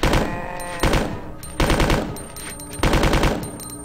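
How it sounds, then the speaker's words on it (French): Machine gun fire in the video game Resident Evil 2, loud close bursts of rapid shots in four repeated volleys with brief pauses between them. "Ah, ce bruitage de mitraillette."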